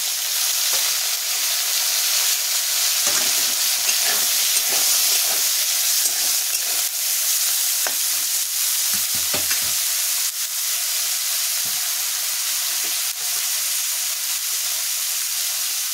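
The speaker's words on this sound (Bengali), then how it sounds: "এবার বেগুনটা ভেজে নেব।" Eggplant fries in hot oil with a loud, steady, close sizzle that hisses without a break, broken now and then by faint utensil scrapes.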